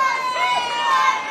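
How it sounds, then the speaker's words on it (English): A boxing arena crowd roars for hometown fighter Kieran, a steady, dense wall of cheering and shouting with a sustained bright din throughout. "Crowd really getting behind Kieran now. You can hear the atmosphere in there."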